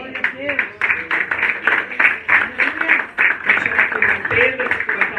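Church congregation applauding during a worship service, a sustained wash of many hands clapping under the loud voice of a preacher speaking over it.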